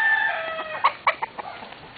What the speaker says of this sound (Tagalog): Ito yung manok mo.